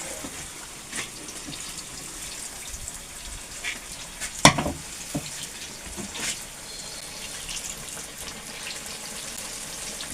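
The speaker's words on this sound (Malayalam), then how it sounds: "അപ്പോൾ പഴംപൊരി ഇടൽ തുടങ്ങി കേട്ടോ." Banana fritters (pazhampori) fry in hot oil with a steady, soft sizzle, broken by one sharp metallic clink partway through and a few faint stirring bumps.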